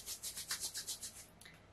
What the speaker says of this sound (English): Rub your hands together, creating a bit of heat.